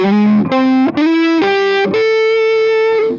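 A PRS SE electric guitar with distortion and gain plays a few sustained notes in a rising sequence, loud and close, each ringing out before the next, the last held long.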